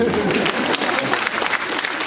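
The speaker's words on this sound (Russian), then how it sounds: "Вот в эти моменты слышать я привык аплодисменты." An audience breaks into dense, steady applause, a loud continuous patter of many hands clapping throughout the short burst.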